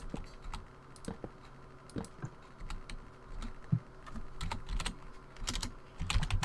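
Someone types on a computer keyboard close by, with irregular clusters of crisp key clicks and brief pauses between bursts, and no talking.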